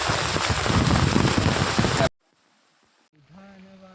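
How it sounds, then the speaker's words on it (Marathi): Loud, dense heavy rain at Matheran pours down for about two seconds, then cuts off abruptly into near silence before a voice begins. "आता पावसाचं धावपळ मोठा झालाय."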